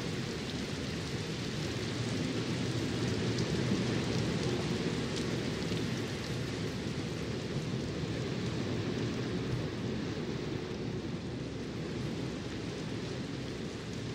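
Steady, heavy rain in the video game Layers of Fear 2 pours continuously with a dense hiss, and a low rumble of thunder sits underneath throughout.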